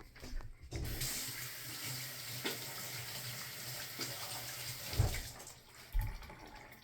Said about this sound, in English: Wash our hands real quick.